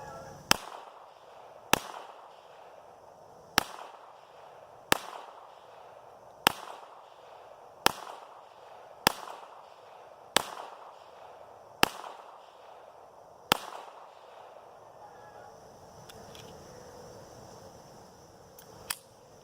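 Ruger Mark IV Competition pistol fires about ten evenly spaced sharp shots, each a crisp crack with a short decay, followed by a quieter stretch near the end.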